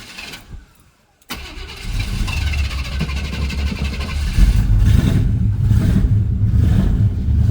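A 1987 Chevy K5 Blazer with a 350 V8 and a weak fuel pump diaphragm cranks briefly, pauses, then catches and settles into a loud, steady idle with a deeper surge partway through, close to the microphone.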